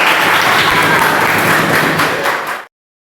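Dense applause from a classroom group in Indonesia, loud and steady for a couple of seconds before cutting off abruptly into silence.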